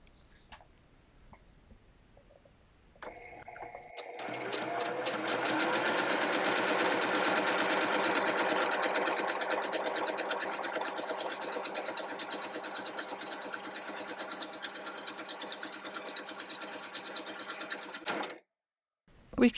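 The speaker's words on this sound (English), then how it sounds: "Now I'll just resume stitching." Mechanical sewing machine stitching a monogram appliqué starts after a few quiet seconds and runs in a steady, fast whirring rhythm for about fifteen seconds before stopping; close and alone.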